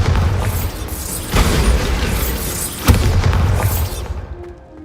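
Bombarda exploding spell in Hogwarts Legacy bursts with a heavy rumbling boom, followed by crumbling, rattling debris and a second sharp impact midway before the noise settles and fades.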